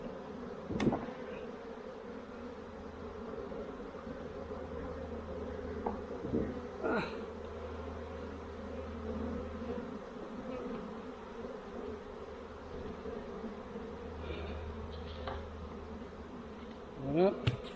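A low, continuous buzzing of many honeybees swarming close by at a hive during a honey harvest, a dense droning hum with occasional louder passes and faint voices in the background.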